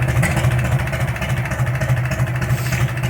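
Farmall M tractor fitted with a 5-inch straight pipe idles close by, a loud, deep, lumpy exhaust chug with steady rhythmic pulses throughout.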